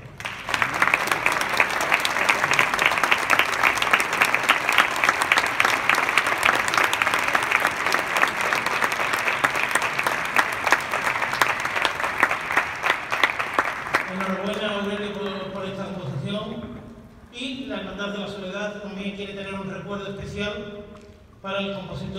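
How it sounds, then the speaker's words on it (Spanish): Audience at a processional march concert in the Santo Domingo cloisters gives a loud, sustained round of applause for about fourteen seconds, then it fades as someone speaks over the dwindling claps. "Un abrazo, un aplauso muy fuerte."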